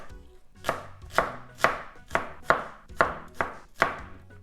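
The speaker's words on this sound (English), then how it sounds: "I'm gonna cut up like this. And then you have dices like this." A knife chops steadily on a cutting board, about nine sharp, close, evenly spaced strokes while slitting and dicing ingredients for Japanese marinated eggs, with no voices over it.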